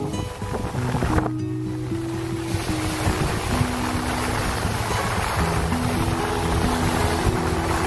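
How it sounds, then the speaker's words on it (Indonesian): Waves wash steadily onto Blimbingsari beach in Banyuwangi, a continuous broad surf roar with wind, loud and close, with a faint low tonal hum running through it. "Kita terus berjalan mendekati garis ombak yang sesekali menyentuh ujung kaki"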